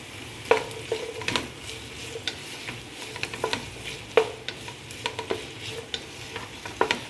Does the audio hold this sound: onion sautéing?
yes